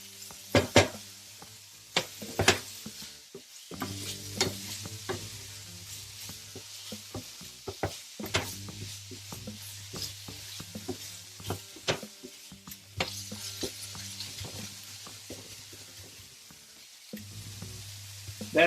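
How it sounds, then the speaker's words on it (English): Tofu mixture frying in a pan to dry it out: faint sizzle broken by repeated sharp scrapes and taps of a utensil, with a low steady hum running beneath most of it. "I'm gonna just fry a little bit more, just to dry more this mixture."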